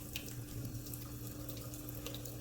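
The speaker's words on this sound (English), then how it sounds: "While I have it under the running water, these little pits, I'm just going to have those go down the sink." Tap water runs steadily into a sink over a piece of etched glass, a soft continuous splashing hiss with small irregular spatters, fairly quiet and close, with no voices.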